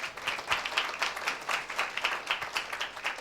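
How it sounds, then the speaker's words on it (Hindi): A church congregation claps loudly in a steady, rhythmic burst of many hands, fairly close and filling the whole moment without talk. "जोरदार ताली देते हैं।"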